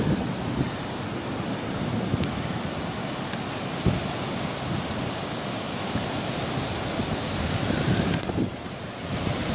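Big waves breaking at Parangtritis Beach give a constant wide roar of surf mixed with gusting wind on the microphone, with a few swelling crashes, loud and enveloping, no talk.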